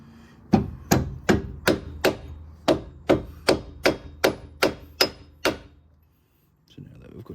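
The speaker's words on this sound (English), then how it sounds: "because I'm going to be belting this with a hammer" Hammer blows driving a lower control arm bushing on a VT Series 1, about fourteen sharp metallic strikes in a steady, even rhythm, loud and close, followed by quiet and faint movement.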